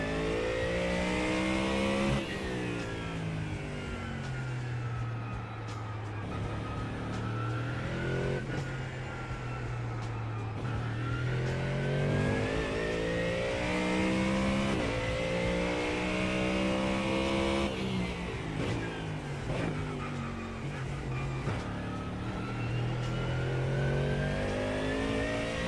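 A GT3 Mustang in iRacing at the Nurburgring during a four-hour endurance race, its engine rising and falling through repeated upshifts and downshifts, loud and continuous with a strong low drone and tire noise.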